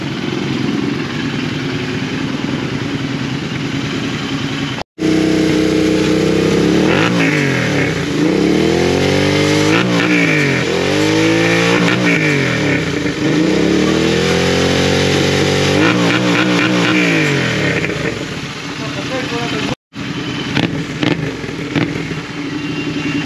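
Royal Enfield Continental GT650 with a loud 2x1 full-system exhaust, revved repeatedly in close, rising and falling blips over a rumbling idle, with brief cutouts between runs.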